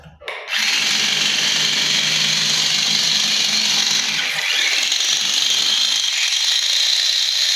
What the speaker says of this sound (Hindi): एक छोटी सी मोटर है ये वाली जो इन पर चला रही है।